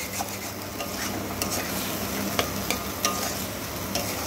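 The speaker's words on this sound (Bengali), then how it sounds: "এবারে খুব ভালো করে সিম আঁচে কষিয়ে নেব। যতক্ষণ না মশলা থেকে তেল ছাড়ছে ততক্ষণ এইভাবে আলুর সাথে মশলাটাকে কষিয়ে নেব।" Spices and potatoes stir-fried on low heat for a vegetarian dhoka curry, a soft continuous sizzle broken by repeated scraping stir strokes of a spatula against the pan, close and fairly quiet, no voices.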